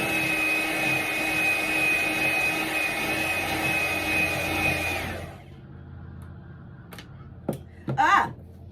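An electric mixer whirs steadily while mixing flour for white bread, a sustained motorized drone with a high whine that cuts off partway, followed by a few short clatters and knocks in near quiet.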